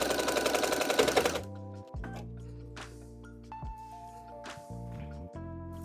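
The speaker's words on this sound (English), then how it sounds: "Now I'm gonna back stitch." A sewing machine runs a short, dense burst of back stitching on a sweatshirt, then stops, leaving quiet handling clicks and faint taps afterward.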